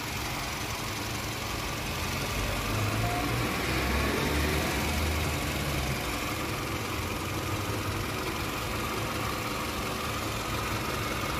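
A 2008 Toyota Camry engine idles steadily with a low, even hum throughout, close and continuous with no talking.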